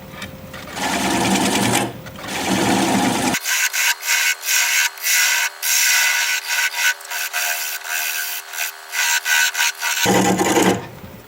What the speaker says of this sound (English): I want to cut this little nub off of here so that I've got a nice flat surface to make a tenon on